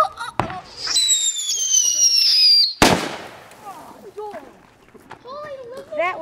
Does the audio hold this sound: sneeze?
no